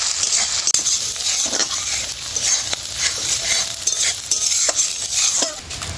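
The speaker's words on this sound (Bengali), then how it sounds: "যে বাটা মশলাটা রেডি করে রেখেছিলাম আদা, রসুন, কাঁচা লঙ্কা সেটা দিয়ে দিয়েছি। একটু ভেজে নেবো।" Ginger, garlic and green chili paste fries in hot oil for a Bengali hilsa fish curry, a loud steady sizzle broken by frequent scraping stirs of a spatula against the pan.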